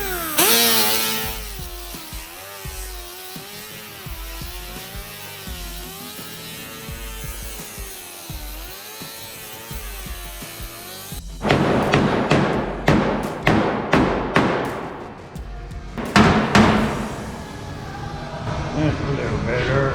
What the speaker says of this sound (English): Hammer and dolly and kind of massage that metal a little bit.